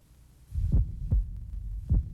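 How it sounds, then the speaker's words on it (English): A man's heartbeat is heard alone: three deep, muffled low thumps at a steady, unhurried pace over a soft background hum. "This is the actual sound of my heartbeat."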